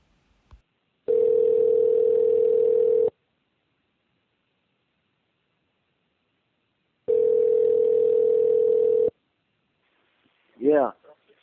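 A telephone dial tone opens a recorded phone call, sounding in two steady, loud bursts of about two seconds separated by silence, followed by a short voice at the end.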